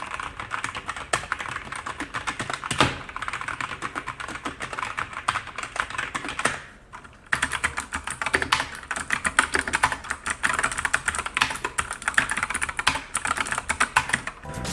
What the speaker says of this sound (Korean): 비슷한 소리를 가진, 키감을 가진 키보드끼리 비교하기 위해서 제가 기계식 키보드 적축을 가져와 봤습니다.